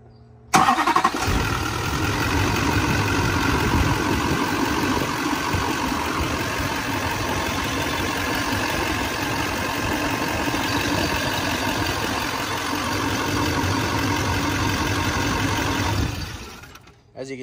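A diesel pickup truck is remote-started, the engine catching with a burst and then settling into a steady, loud idle that runs close by for about fifteen seconds before cutting off.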